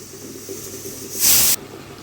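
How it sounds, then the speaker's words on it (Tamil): Chicken sautéed in oil with tomatoes gives a sudden loud sizzling hiss that lasts about a third of a second, then drops back to a quiet kitchen background. "நம்ம சிக்கனை சேர்த்து இந்த மாதிரி வதக்கி விட்டுறலாம்"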